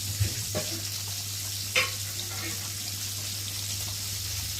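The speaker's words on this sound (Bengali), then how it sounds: "দেখো তেলটা গরম হয়ে গেছে" Hot oil in a pan after frying prawns, crackling and sizzling faintly and steadily over a low hum, with a couple of sharp pops from the pan.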